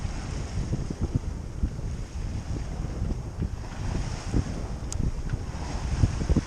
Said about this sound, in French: Là, le vent est enfin revenu.